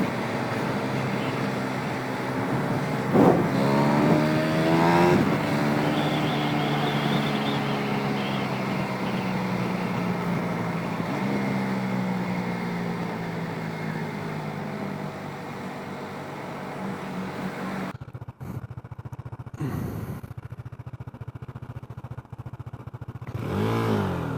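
A KTM Duke motorcycle engine runs continuously while being ridden, its pitch rising and falling through gear changes and clutch engagement, loud and close, with wind noise and a sharp drop near the end.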